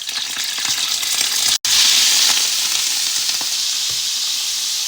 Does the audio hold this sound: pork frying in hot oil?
yes